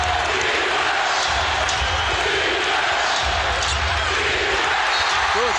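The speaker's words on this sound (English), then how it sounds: "Listen to this crowd." A packed NBA arena crowd roars loudly and without a break during a 2003 Indiana Pacers at Washington Wizards game. The dense, swelling noise fills the space, and a few faint thuds come through underneath it.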